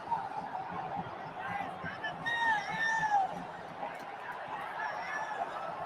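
Crowd noise from a football semi-final at the National Stadium, with a broad, sustained roar from far off and scattered whistles and shouts rising in the middle, a commentator talking over it.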